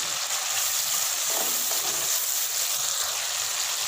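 Garlic sizzling steadily in a pan of cooked onions and tomatoes, a continuous close hiss of frying with faint stirring, no voices.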